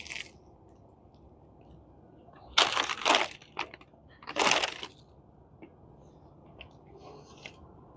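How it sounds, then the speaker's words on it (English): Bites into a fresh wood-fired bagel with a crunchy crust and soft, chewy inside, eaten plain: two loud crunching bursts and a few softer chews, close up, with quiet room noise between them. "I'm just going to eat it like a donut."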